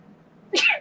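A single sharp human sneeze bursts out near the end, short and fairly close after a quiet stretch of low background hum.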